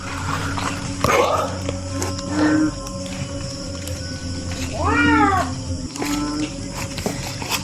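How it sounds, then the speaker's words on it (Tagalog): A cat meows clearly several times, with a long rising-falling cry mid-clip and shorter calls before and after, over a steady hum and some low background noise, in a nighttime setting that feels tense. "Pusa."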